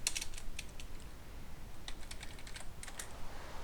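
Quick bursts of computer keyboard keystrokes typing out a command, crisp clicks clustered at the start and again near the end with a quiet pause between, with no voices.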